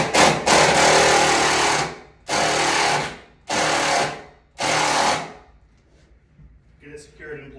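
A power drill drives a Tapcon screw during a crawlspace door install, heard as four loud, close whirring bursts of one to two seconds each separated by brief pauses, with a faint voice at the end.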